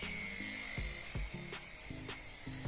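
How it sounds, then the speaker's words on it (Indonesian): A polishing machine works over a car's dull body paint with a high whirring drone whose pitch rises and falls in short repeated passes, heard close and with no talk. "Kita poles kembali."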